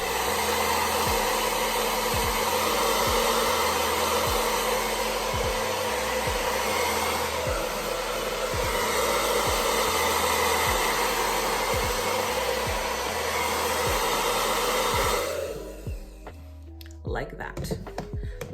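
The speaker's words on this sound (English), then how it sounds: "I'm just gonna blow dry this part" A hair dryer blows steadily and loudly while type 4 natural hair is stretched and blow-dried, a continuous rushing whoosh that runs for about fifteen seconds, then cuts off into quiet handling noises.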